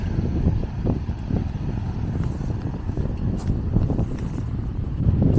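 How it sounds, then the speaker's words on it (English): Wind buffeting the microphone on the Norfolk coast path, a continuous low rumbling gust noise that swells and eases, with no speech. "As you can see, there's quite a breeze of wind."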